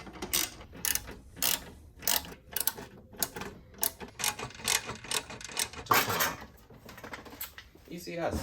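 Plastic clips snap and rattle as an ECS intake cover is worked loose on a B7 Audi A4, giving a string of sharp, close clicks and knocks in an irregular rhythm.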